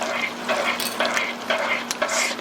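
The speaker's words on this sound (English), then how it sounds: "Just going to mix that in real fast." Caramel candy ingredients are stirred quickly in a pan, giving a rhythmic scraping and swishing with a soft sizzle, repeated in quick strokes close by.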